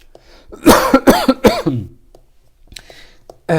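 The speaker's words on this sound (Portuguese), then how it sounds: "Desculpa a tosse" A few harsh, throaty coughs burst out in quick succession near the microphone, then trail off into quiet with a faint breath afterward.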